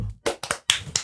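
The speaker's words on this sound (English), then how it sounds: "It's hard to clap and switch at the same time." Hands clap four times in an uneven quick rhythm, sharp and close, with a short low thump at the start and no voices.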